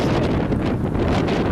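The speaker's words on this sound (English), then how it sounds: "So if you hear a weird noise, that's probably the wind." Steady, roaring gusts of wind buffet the microphone outdoors during a walk among trees, a dense continuous rumble with no talking.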